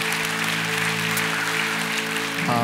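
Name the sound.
congregation applause at baptism service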